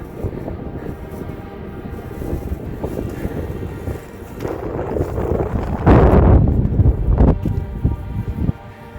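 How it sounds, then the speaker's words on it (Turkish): Steady wind buffets the microphone, a low broadband roar that surges louder around the middle, with no voices, near a summit on Hasandağı mountain, Turkey. "Biraz rüzgar var."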